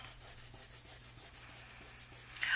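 Fingers or a cloth rub dried glue ooze off a paper lapbook in steady back-and-forth strokes, soft and close, with no talking.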